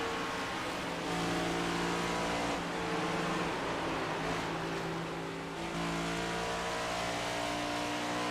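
A Next Gen Cup stock car's engine on the Charlotte track roars with shifting pitch, the revs dropping and surging as the car is shut down, loud and close over a broadcast background.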